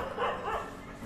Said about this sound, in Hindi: कुत्ता सब भौंक रहा है उसको देख के।